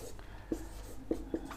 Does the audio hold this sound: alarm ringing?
no